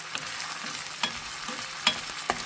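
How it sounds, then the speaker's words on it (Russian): Food fries in a pan until golden, a soft continuous sizzle broken by a few sharp crackles and utensil taps, fairly close and without voices. "Надо обжарить до золотистого цвета."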